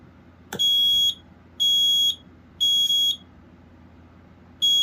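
A Kidde 900-CUAR smoke and carbon monoxide alarm emits four loud, piercing high-pitched beeps in a steady repeating pattern, with a brief click just before the first one and no voice.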